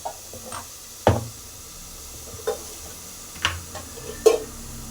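A spoon scrapes and knocks against a pot while a village-style country chicken masala mixture is stirred, giving five or six separate clunks and scrapes over a low sizzle, with no talk.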